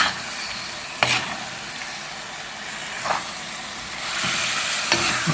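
Duck curry being stirred with masala in a pan, a steady broadband sizzle with a few sharp scraping strokes of the spoon at intervals, the frying noise swelling louder toward the end.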